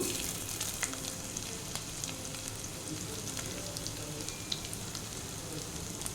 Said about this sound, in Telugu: జీడిపప్పు వేయించిన తర్వాత మనం ఇందులో ముందుగా కట్ చేసి పెట్టుకున్న అల్లం వెల్లుల్లి ముక్కలు వేసుకోవాలి